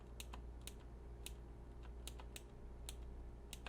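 Buttons on a Razer Panthera Evo arcade stick fitted with a Korean lever click in quick, sharp, irregular taps, close and fairly quiet over a steady low background hum.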